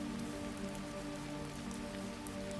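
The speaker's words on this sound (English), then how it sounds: "Listen to the rain for a moment." Gentle rain falls steadily on a surface, a soft continuous hiss of drops with a faint low hum beneath, quiet and even throughout.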